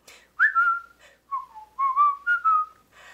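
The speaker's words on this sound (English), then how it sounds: "Just purse your lips and whistle, that's the thing." Melodic whistling of a tune, a clear solo whistle in several phrased bursts with short pauses between them, heard alone without any voices.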